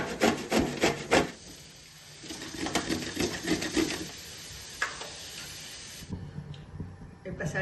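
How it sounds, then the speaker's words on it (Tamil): Peeled raw mango is rubbed on a carrot grater in quick, close scraping strokes, first brisk and rhythmic, then softer and more irregular, fairly quiet throughout. "இப்போ மாங்காயை தோல் சீவிட்டு நம்ம கேரட் சீவியில் எப்படி சீவி எடுத்துக்குவோம்"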